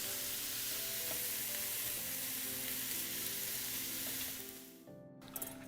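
Onions fry in a pan with a steady, close sizzle and occasional stirring, the hiss easing toward the end before a brief clatter, with no talk.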